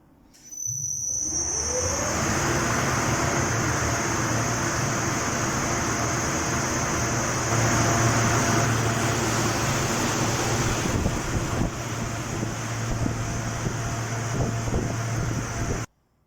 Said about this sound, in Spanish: vamos a ponerlo en marcha gracias a este ventilador que tenemos del túnel de viento